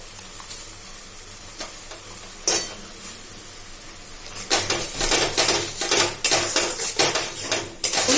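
Boiled taro stolons (kochur loti) with mustard paste, salt, turmeric and chili powder sizzle in a pan while a spoon scrapes and clatters repeatedly against the metal, stirring growing busier toward the end, close and with no talking.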